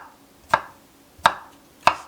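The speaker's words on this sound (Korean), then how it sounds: "파인애플도 작게 썰어줄게요." Three sharp knife chops through pineapple on a cutting board, evenly spaced and close, with quiet pauses between each cut.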